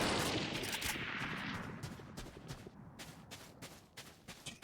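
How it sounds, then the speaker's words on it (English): Bursts of gunfire in a shooter video game, a loud rapid volley at the start fading into scattered sharp shots that continue sporadically, with no talking. "Shooting randomly."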